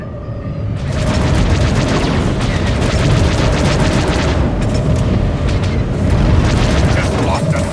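Loud, sustained explosion of a fighter craft destroyed in a space combat video game, a deep rumbling blast that swells after the first second and roars on for several seconds with crackling debris, with game voice announcements around it.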